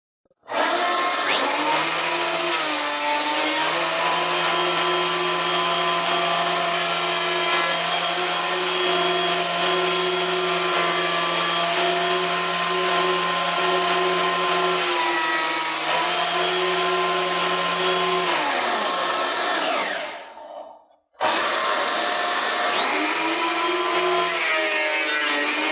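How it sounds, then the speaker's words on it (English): Craftsman benchtop planer runs a pallet oak board through with a loud, sustained whine and roar that drops briefly as the board exits, then the motor continues. "Now we're going to be planing some oak here we got off of a pallet"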